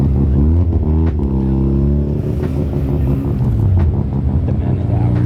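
A right-hand drive car rolls up close with a deep, throbbing exhaust, its engine revving and easing in uneven pulses while people chatter nearby.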